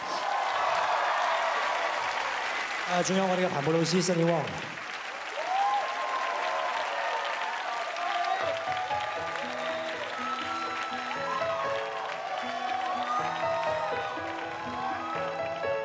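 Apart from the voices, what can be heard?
audience applause for the dancers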